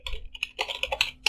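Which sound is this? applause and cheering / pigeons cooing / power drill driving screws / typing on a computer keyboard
typing on a computer keyboard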